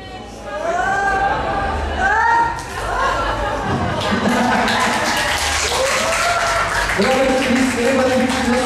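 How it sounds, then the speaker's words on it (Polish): An audience at a literary stage poetry event breaks into applause, a dense burst of clapping mixed with cheers and a voice calling out over the crowd, continuing steadily throughout. "Wielkie brawa dla Roberta Rybickiego."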